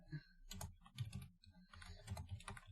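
Computer keyboard typing in several quick bursts of clattering keystrokes, close and fairly loud, with short pauses between runs and no talk over it.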